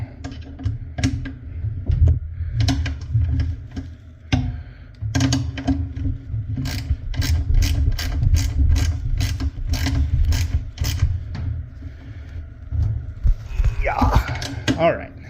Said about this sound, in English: So let's torque our first two down.